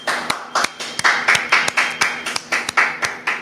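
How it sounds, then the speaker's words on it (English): A congregation claps in a steady rhythm, about four sharp hand claps per second in unison, loud and close, with no talking. "All right, clap it up"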